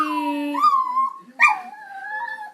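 A pet dog named Angel howls and whimpers in long, wavering vocal tones, rising and falling in two drawn-out phrases, close and clear with no talk over it.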